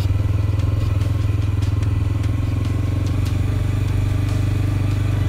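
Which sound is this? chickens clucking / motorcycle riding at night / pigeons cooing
motorcycle riding at night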